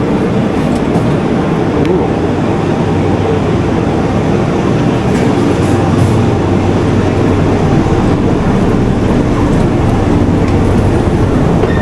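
A metro train rumbles loudly through a station in Venezuela, a dense, continuous low roar with rolling rail noise and no break.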